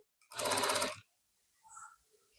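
A sewing machine stitches the corner of a blouse in one short, close burst of rapid whirring, followed by a brief faint rustle.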